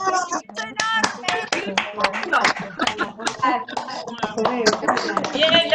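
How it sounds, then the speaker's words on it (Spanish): Audience applause at a farewell presentation event, loud dense clapping with sharp hand slaps throughout, voices and chuckles mixed in underneath. "Un aplauso con ruido ahora, un aplauso en serio."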